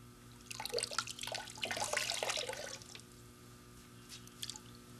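Warm water trickles and splashes in an uneven burst, close and moderately loud, then thins to a few scattered drips before a brief splash near the end.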